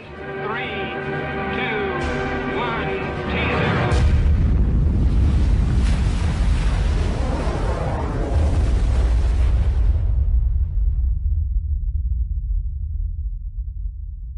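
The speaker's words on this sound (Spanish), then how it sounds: "La potencia de la explosión es similar a la de 10 millones de toneladas de TNT" A thermonuclear bomb test blast hits with a huge, sustained roar that swells and rumbles for several seconds before cutting off into a low fading drone, loud and heavy. Music plays at the start.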